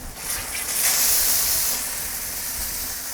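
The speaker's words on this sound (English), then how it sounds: "A little sear action right there." Meat searing on a hot Kamado Joe grill while Mexican street tacos are cooked, a steady close sizzling hiss that swells a little in the middle and holds without talk.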